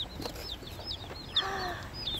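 Tiny Cornish Cross meat chicks just arrived from the post office, peeping in quick high chirps, several overlapping at a moderate distance over a low background hum.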